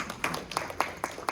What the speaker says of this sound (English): So let us give applause to everybody